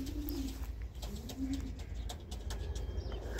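Soft, low racing pigeon coos rise and fade twice against a steady outdoor rumble, with a few faint chirps and clicks scattered above, as birds return from a 195 km race from Casatejada, Spain.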